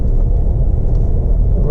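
A vehicle drives over a severe, rough gravel road on a stormy day near the coast, giving a loud, steady, close rumble with no break.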